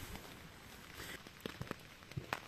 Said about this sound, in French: il pleut encore. Donc je suis venu me remettre à l'abri dans ma tente, enfin sous mon tarp.